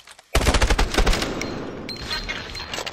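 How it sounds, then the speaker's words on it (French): Automatic gunfire in the Call of Duty: Advanced Warfare video game, a sudden loud close burst of rapid shots settling into sustained rattling fire with echoing tails. "Tire en premier, Mitchell"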